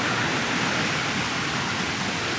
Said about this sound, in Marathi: छोटे छोटे धबधबे या ठिकाणी प्रवाहित होत आहेत